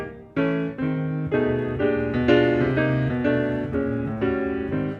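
Solo jazz piano in the old style, with the left hand covering bass and rhythm while chords fill in the accompaniment, played in a steady, swinging pulse, close and clear with no talking.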